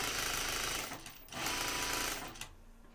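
A home sewing machine stitches in two loud, fast bursts of rattling motor whir, briefly stopping in between and then trailing off, with no speech.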